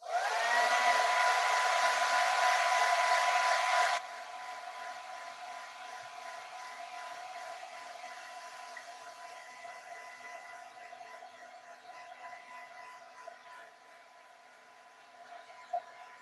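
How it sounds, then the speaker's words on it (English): A handheld hair dryer blows hard, a loud steady whooshing roar for about four seconds, then drops to a softer, lower setting that hums on more quietly to the end. "I'm gonna hit it again with the with the hair dryer."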